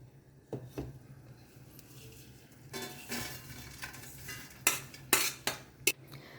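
Pieces of fried leftover bread lifted from a pan onto a plate, with clinks and scrapes of a utensil against metal and dishes that grow sharper and more frequent toward the end, over a quiet background.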